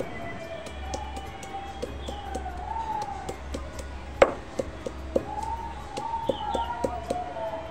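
Ginger and garlic pounded and ground together on a stone grinding slab with a stone pestle, a steady series of gritty scrapes and sharp knocks close by, one louder crack in the middle, over faint background noise.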